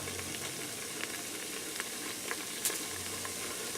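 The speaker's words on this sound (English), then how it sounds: "I'm going to continue frying this for a few minutes till the onion starts to soften up." Diced onion and caraway seed fry in a pressure cooker, giving a steady soft sizzle with faint crackles and an occasional stir, heard alone at low level.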